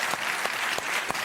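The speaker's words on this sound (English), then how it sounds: "I did not get that applause at home" An audience breaks into applause in a broadcast studio, a dense, steady clapping that holds at a full, close level for the whole short burst.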